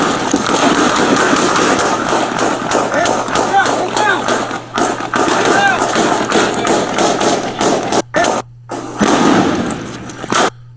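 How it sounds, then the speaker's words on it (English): A flashbang grenade goes off during a Dallas police officer-involved shooting: sharp, loud bangs and thuds up close, mixed with urgent voices and brief dropouts in the sound. "So the flashbang went off"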